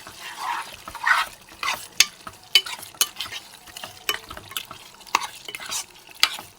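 A spatula stirs cucumber mutton curry with fresh coriander and mint in a pan, producing soft wet squelches and sharp scraping clinks in an irregular rhythm, close and moderately loud, without speech.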